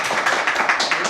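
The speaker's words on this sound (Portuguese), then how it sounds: "Ser recebido com uma salva de palmas assim" Applause from an audience welcoming a federal deputy and pastor as a guest on a webcast, a dense steady patter of many hands clapping, fairly loud and continuous throughout.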